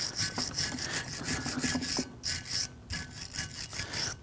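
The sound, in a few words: bristle brush scrubbing brake caliper slide surfaces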